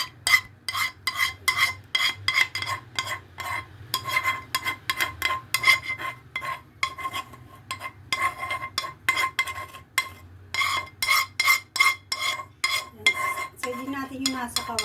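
A utensil spreads cassava cake topping over the cake in a pan, giving repeated rhythmic scraping and clinking strokes against the metal, close and fairly loud, with brief pauses between strokes.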